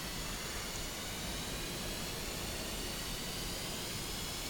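An F-5E jet engine spooling up under throttle during startup in the DCS flight simulator, a steady, broad hissing roar, faint and constant without any voices.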